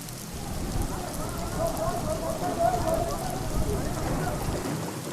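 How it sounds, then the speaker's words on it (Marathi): Heavy rain pouring in Wardha, a dense steady hiss of falling water at moderate level without pause. "वर्ध्यात मुसळधार पाऊस पडतोय।"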